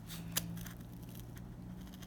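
Scissors snip paper once while cutting out paper dove ornaments, a single quiet, crisp cut near the start over a low steady hum, with no talk.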